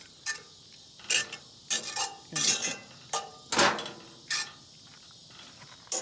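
At a campsite, a spoon stirs pesto and olive oil in a pan, giving a string of close, uneven metallic clinks and scrapes over a faint background of crickets.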